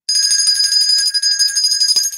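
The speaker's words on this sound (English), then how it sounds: "You keep on ringing that bell" A hand bell rung repeatedly in a steady, rapid jangle, bright and close, continuing without pause for a couple of seconds.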